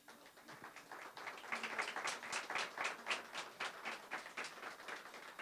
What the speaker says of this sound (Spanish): Nosotros hoy nos alegramos y damos un aplauso